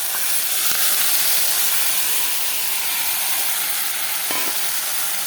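Marinated fish poured slowly into hot oil in a home kitchen, giving a loud steady sizzle and hiss that lasts throughout, with a few faint clinks of utensils.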